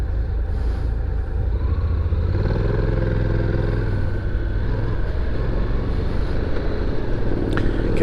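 A 700ND motorcycle being ridden produces a continuous loud engine drone with wind rush, the pitch shifting as it accelerates, with no talking.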